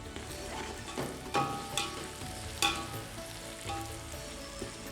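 Cloves, cardamom, cinnamon and fennel sizzle in hot oil for a chicken curry, a steady close crackle with a few louder pops and stirring scrapes, and no talk.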